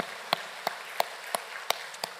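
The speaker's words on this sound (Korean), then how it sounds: "우리 다시 한번 성삼위 하나님 앞에 영광의 박수 올려드립시다" A church congregation claps during a Sunday morning worship service, six sharp, evenly spaced claps in unison at a measured pace, fairly faint over a quiet room.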